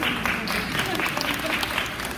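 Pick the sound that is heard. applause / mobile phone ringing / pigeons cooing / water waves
applause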